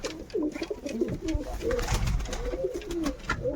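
Pigeons cooing inside a loft where chicks are being raised, a steady overlapping chorus of low, rolling coos from several birds close by, with no speech over it.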